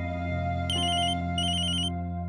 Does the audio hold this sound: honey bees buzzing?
no